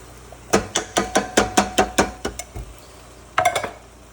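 Drained canned cannellini beans tumble from the can into a cooking pot as a quick series of close, hard taps and knocks, a rapid run of about ten hits, a pause, then a shorter burst, with no voices.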